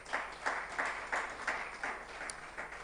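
An audience at a tech conference panel claps for a speaker, with rhythmic, moderately loud bursts of applause repeating roughly twice a second, as if in unison, somewhat distant in a hall.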